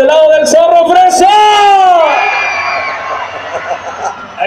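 A live crowd at a Mexican stage show shouts and cheers loudly in a long, rising collective yell that fades into scattered shouts and chatter.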